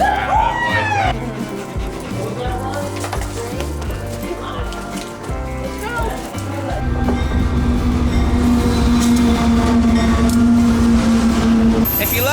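A train rumbles past close by on a busy track in Afton Canyon in the Mojave, a heavy continuous roar with a sustained horn-like tone joining midway, while a dog barks briefly near the start.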